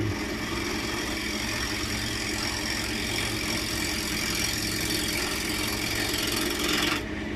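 A wood lathe spins a small oak ashtray blank while a gouge cuts it, producing a continuous motor hum with a gritty scraping hiss, ending in a brief sharp brush of noise near the end.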